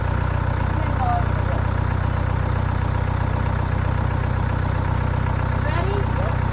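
A tractor engine runs in low gear with a steady, loud, close mechanical drone that holds unchanged throughout, with faint voices briefly audible over it.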